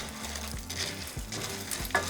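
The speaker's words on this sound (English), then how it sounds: "We're going to be frying for about 3 minutes or until all of our macaroni is nice and golden." Elbow macaroni fries in hot oil for a Mexican sopa de coditos while being stirred constantly: a steady, close crackling sizzle fills the whole stretch, with faint scrapes of the spoon and no voices.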